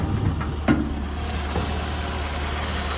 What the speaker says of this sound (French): ce petit 4 cylindres.